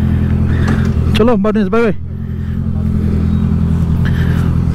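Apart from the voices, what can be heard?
Honda CBR650F motorcycle engine riding off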